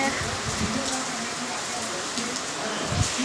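Rain falls in a continuous hiss, with faint low murmuring and occasional soft thumps underneath.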